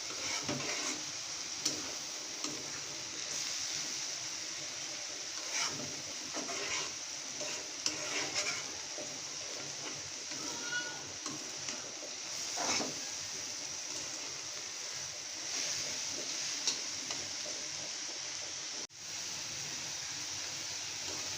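Water spinach greens with shrimp stir-fried in a pan, giving a continuous hissing sizzle broken by repeated scraping and stirring strokes, fairly close and steady throughout.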